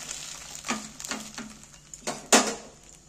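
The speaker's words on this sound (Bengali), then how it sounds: "এইবার আমি রুটিটাকে উল্টিয়ে দিচ্ছি।" Egg paratha flatbread frying in a pan, flipped partway through, with a steady close sizzle broken by several soft scraping turns and one sharper clatter near the end.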